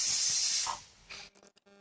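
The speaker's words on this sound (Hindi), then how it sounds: "अभी देखिए फाइनली प्रेशर कुकर की सीटी बज गई है। इसका मतलब है मेरी दाल बन के तैयार हो गई है।" Pressure cooker whistling on a kitchen stove while dal cooks: a loud, sustained hissing steam release that tapers off, followed by a few short sputtering bursts.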